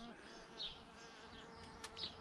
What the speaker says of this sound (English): There's a bee visiting the aquilegia.